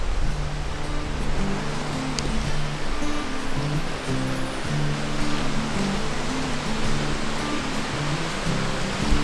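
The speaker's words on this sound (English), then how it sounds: "this is Torque Waterfall, I guess." A waterfall in Ireland, reached by a short trail, gives a steady, full rushing roar that stays even and continuous throughout, with no voices.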